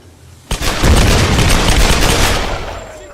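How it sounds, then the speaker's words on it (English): In the Tomb Raider (2013) video game, a generator explodes after being shot, producing a sudden sharp blast followed by a loud, sustained rumbling roar with crackling debris that slowly fades over a few seconds. "you can actually shoot the generators and they'll explode"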